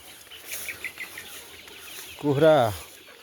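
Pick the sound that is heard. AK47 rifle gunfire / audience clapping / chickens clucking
chickens clucking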